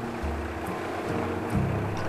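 A fishing boat's engine chugs steadily over the wash of open sea around the Philippine islands, with a low drone and a couple of bumps as the hull rides the waves.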